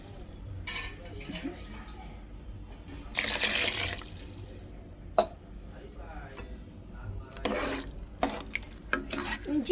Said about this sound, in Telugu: మంచిగా కలుపుకోవాలి ఇట్లా